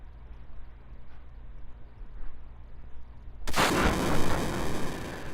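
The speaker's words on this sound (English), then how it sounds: "we just made a little explosion so we could get out" An explosion in the Final Fantasy VII video game, a sudden loud blast that bursts in after a quiet stretch of low game ambience and rumbles on to the end.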